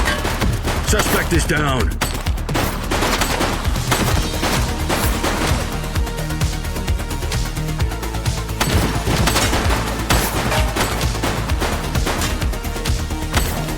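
Gunshots in The Precinct police game: loud, rapid volleys of gunfire and crashing impacts fill the scene continuously, with a short spoken line partway through.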